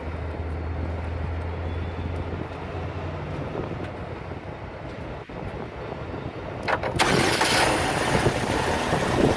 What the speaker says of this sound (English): have the gentleman here go ahead and start it, and you'll see what it sounds like.